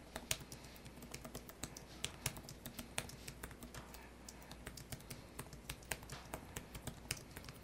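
Typing on a compact tablet keyboard for the Poco Pad X1 gaming tablet: a steady run of sharp, close key clicks and taps at an uneven rhythm, heard alone with no talking.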